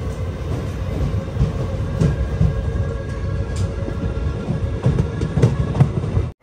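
Parasuram Express rumbling steadily along the rails near Thiruvalla station, a continuous loud low roar of wheels and carriage with faint rhythmic clatter throughout.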